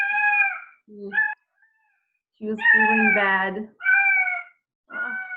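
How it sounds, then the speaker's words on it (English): A pet cat, unwell and on new medicine, gives several drawn-out meows close by, separated by short pauses, with a person speaking briefly between them. "That's my cat."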